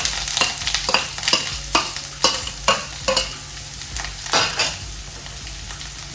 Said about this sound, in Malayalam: നല്ലതുപോലെ വറുത്തെടുക്കണേ